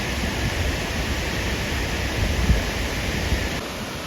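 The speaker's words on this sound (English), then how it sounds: "the water spray from the waterfall feels magnificent" Waterfall at Twin Falls, Idaho, pouring as a steady, dense roar of falling water and spray that fills the whole scene, loud and constant with no pauses.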